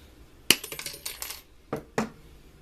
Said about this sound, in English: Lineman's cuts it easier. We're going to cut it about right here.